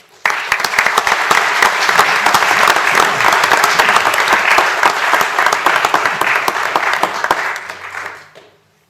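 An audience at a city council meeting applauds an award presentation, a dense sustained round of clapping for about eight seconds before it fades out.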